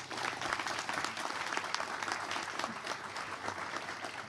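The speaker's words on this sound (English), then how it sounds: "let's give another round of applause" A press conference audience gives a sustained round of applause, dense clapping that stays loud and even throughout with no speech over it.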